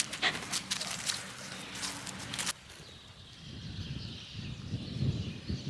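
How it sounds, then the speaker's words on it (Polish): Dogs scamper about close by outdoors in late December, with panting and a brief whimper over scuffling footsteps, and birds chirping faintly in the background. "No gdzie biegają pieski?"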